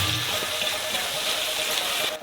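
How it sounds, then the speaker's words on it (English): Water pours steadily from a tap into a wok for a noodle broth, a constant close hissing splash that holds at the same level throughout with no voices. "Fill this all up with water."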